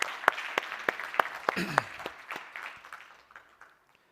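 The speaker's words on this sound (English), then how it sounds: "Another round of applause, please" Audience applause for Lerato at a Sanlam Gauge 2022 event, starting with a few sharp, distinct claps that build into fuller clapping before fading out steadily over about four seconds.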